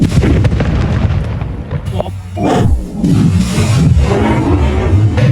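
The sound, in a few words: Diwali firecracker bomb exploding under clay pot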